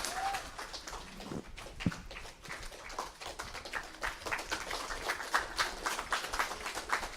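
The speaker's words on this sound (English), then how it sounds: "Big round of applause." A crowd at a weekly Sunday satsang gathering claps in sustained, faint, rather distant applause that keeps a steady pattering texture for several seconds.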